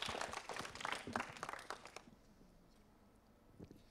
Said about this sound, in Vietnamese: chúng ta sẽ có một tràng vỗ tay thật lớn để cổ vũ bạn Phạm Thanh Hà